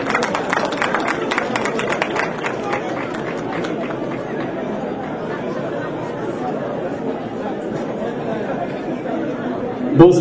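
Audience at a United Nations francophone cultural evening applauds Senegal's ambassador Fodé Seck, a dense, steady crowd clapping with chatter mixed in, sustained at even loudness before a brief louder burst at the end.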